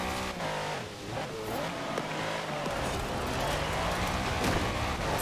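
Mercedes-Benz SL 65 AMG Black Series V12 in Forza Horizon 4 rally driving, a loud sustained engine drone with rising and falling revs and brief tire noise.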